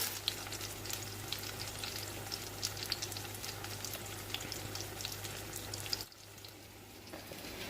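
Chapli kababs made from minced meat fry in a frying pan with a close, steady crackling sizzle that drops abruptly to a quieter simmer near the end.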